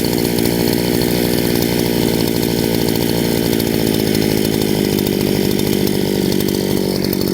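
A brush cutter's small two-stroke engine idles steadily right after a carburetor adjustment, a loud, continuous buzzing drone close by with its revs holding fairly even for the whole stretch.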